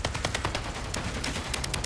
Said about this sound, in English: let's just watch how fast this rips through armor placing